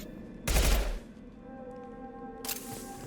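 A burst rifle from Mass Effect 2 fires a loud, tight three-round burst, then falls quiet under faint ambient hum before a second, briefer burst starts near the end.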